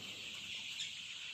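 Chickens at a poultry farm give faint, low clucks against a steady hum, with the birds heard at a distance.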